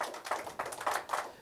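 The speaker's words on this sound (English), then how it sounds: "Give the Lord a great big hand clap." A church congregation claps in praise, a quick burst of uneven, moderately faint hand claps lasting just over a second.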